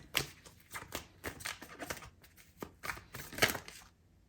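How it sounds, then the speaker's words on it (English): Tarot cards are shuffled by hand in a series of close, crisp riffling bursts with short pauses between them, alone with no voices. "I'm going to shuffle it back in"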